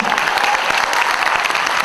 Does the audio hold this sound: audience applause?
yes